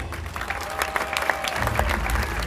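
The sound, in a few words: stadium crowd applauding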